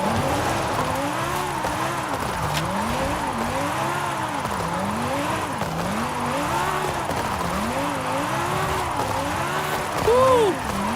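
A Ferrari drifting in Forza Horizon 5, its engine revving up and down in repeated cycles as it slides through turns, with a sharp tire squeal near the end, loud and continuous throughout.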